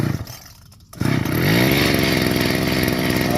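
A homemade Thai grass- and rice-leaf cutting machine in a rice paddy sputters, goes briefly quiet, then its small engine catches about a second in and settles into a loud, steady, buzzing idle close by, with no talk.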